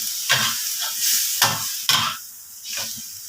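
Pork leg stir-fried in a spicy sauce while the liquid cooks down, loud hissing sizzle rising in repeated bursts as the meat is tossed and scraped close up, with no talking.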